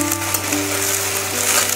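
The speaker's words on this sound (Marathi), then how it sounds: "आता आपल्याला मेथीची भाजी टाकायची आहे. भाजी चांगली परतून घ्यायची आहे आपल्याला तेलामध्ये." Fenugreek leaves (methi) sauté in oil in a pan, a loud, dense, continuous close sizzle with faint stirring and no voices.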